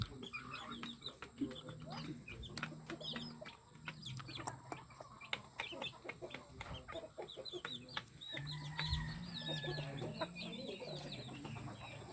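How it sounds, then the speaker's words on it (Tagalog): Chickens on a family farm cluck and chirp steadily, several birds together at close to middle distance, with soft voices talking now and then. "Ang dami chicken."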